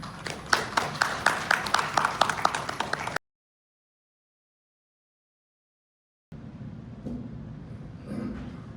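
Audience clapping at a smart-manufacturing seminar, several seconds of dense, fairly close applause that stops abruptly, followed by silence and then quiet room tone with faint shuffling.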